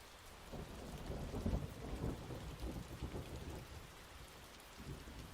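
A steady rainstorm pours down with low thunder rumbling through it, continuous and fairly full throughout, with no voices.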